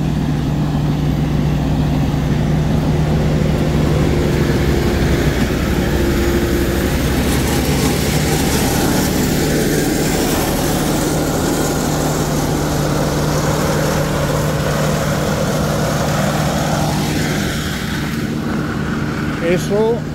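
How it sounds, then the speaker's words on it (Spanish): A steady low engine drone rumbles continuously from a tractor clearing the edges of a path on the Camino Francés near Pamplona, with a faint voice briefly audible near the end. "aquí suena un tractor que están limpiando los bordes de la"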